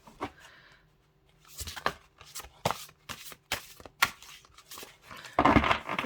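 A tarot card deck is shuffled and handled nearby in bursts of riffling, flicking and crinkling card noise with short pauses between, ending in a louder flurry of shuffling.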